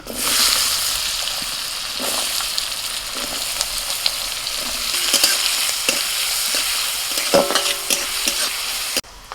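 Chopped onions fry in a wok of oil, butter and cumin for pav bhaji, giving a loud, constant sizzle near at hand, punctuated by scraping stirs and occasional knocks of the spoon.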